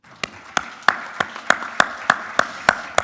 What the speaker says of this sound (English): let's give a big round of applause to our presenters and discussants